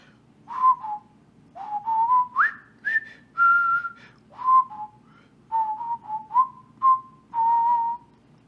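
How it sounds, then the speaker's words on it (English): A person whistles the Colonel Bogey March from Bridge on the River Kwai, a clear, close, loud melody of short phrases with brief pauses, alone without talk. "whistling the Colonel Bogey March from Bridge Over the River Kwai"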